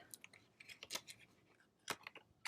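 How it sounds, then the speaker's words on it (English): Scissors cut ribbon while a Christmas gift box is being made, giving a few faint, close snips in quick bursts. "So I'm just going to cut that off straight."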